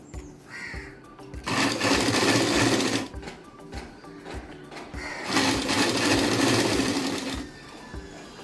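Sewing machine stitching a blouse shoulder, two steady bursts of rapid mechanical whirring, each lasting a couple of seconds, separated by quiet pauses with faint handling clicks.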